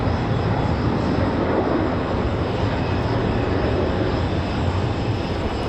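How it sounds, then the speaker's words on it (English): A Delta jet lines up on the runway at Raleigh-Durham airport, its engines giving a continuous broad rumbling roar at steady loudness, alone without talk. "Delta 2600 getting ready to line up and wait."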